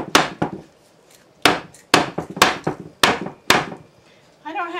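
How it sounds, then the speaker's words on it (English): Hammer blows striking a broken wooden chair during a repair, sharp loud whacks in irregular bursts of one to three hits separated by short pauses, close to the microphone, with a brief voice at the very end. "Actually, that's a hammer."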